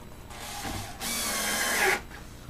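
A brief, close whir of a power screwdriver tightens a screw during assembly of an Elves and Angels Sylvie's Kitchen Deluxe dollhouse kitchen, rising for about a second over a faint background hum.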